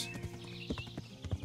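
Horse hooves clip-clopping in the medieval game Kingdom Come: Deliverance, a quick run of near, fairly loud hoofbeats over ambient game sound, with a faint whinny.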